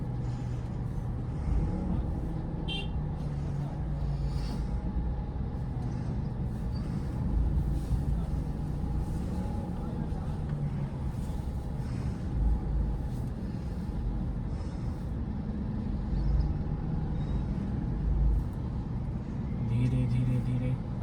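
A car crawls through dense road traffic, with a steady engine and road hum filling the whole stretch and other vehicles passing close by.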